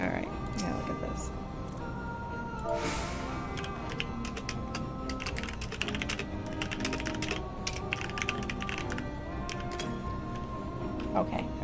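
Rapid clicking of computer keyboard keys during a Final Fantasy XIV session, a steady close run of taps over a low background hum, with faint talk.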